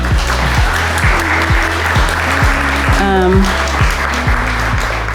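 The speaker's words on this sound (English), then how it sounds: "another round of applause for everyone" Steady applause from a crowd, clapping continuously under a loud rhythmic musical backing.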